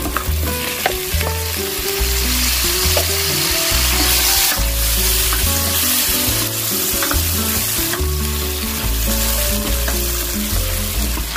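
Shrimp frying in a wok for a broccoli stir fry, with a loud, steady sizzle running the whole way over music.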